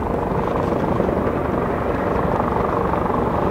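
A UH-1 utility helicopter flying at the Fuji Firepower Exercise, its steady rotor thump and engine roar loud and continuous throughout with no pauses.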